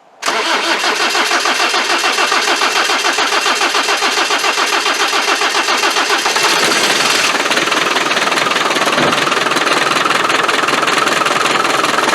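A Land Rover 300Tdi diesel engine is started with the key: a brief crank, then it catches and runs with a loud, steady, rattly clatter, the tone shifting slightly partway through.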